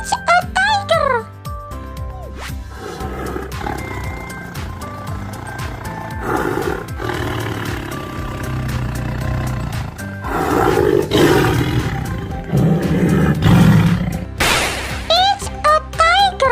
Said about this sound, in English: It's a tiger. It's a tiger.